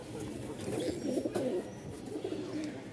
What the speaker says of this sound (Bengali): দেখেন ওরা কবুতর দেখতে পাচ্ছেন